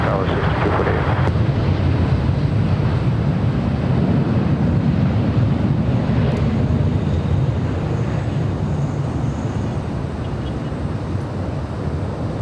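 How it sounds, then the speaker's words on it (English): An Airbus A350-1000 heavy jet touches down on runway 24 right at Los Angeles International Airport, a broad steady low roar heard from a distance, mixed with wind noise and faint radio chatter throughout. "Heavy Airbus 350, touching down, runway 24 right, clear to land"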